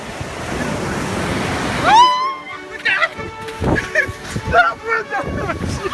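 Pacific Ocean surf washes in a steady roar with wind buffeting the microphone, then a rising tone cuts in and voices and splashing sounds take over.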